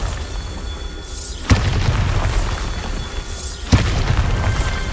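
The Bombarda blasting spell in Hogwarts Legacy goes off twice, about two seconds apart: each is a sudden loud boom followed by a crackling, whooshing tail over a steady background hum.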